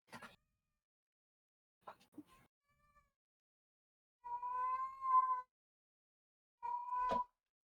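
A pet cat named Kiki lets out two long, loud howling meows, the first drawn out and wavering, the second shorter, after a few soft scuffs and clicks in an otherwise quiet room.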